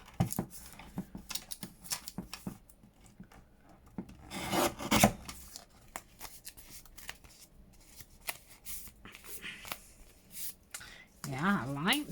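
Paper is trimmed for a junk journal collage tag, giving close, soft scraping and rasping cuts in short bursts with quiet pauses between them, and a voice speaks briefly near the end.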